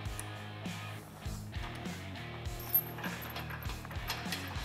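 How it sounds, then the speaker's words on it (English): Ratchet wrench tightening a nut from above while installing whip lights on a Can-Am Maverick X3, a quiet, steady run of small rapid clicks with brief pauses, close by and faint. "We're just gonna use a ratchet wrench here from the top."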